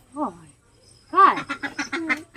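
A voice makes short nasal quacking sounds, one call and then a quick run of several, close and fairly loud.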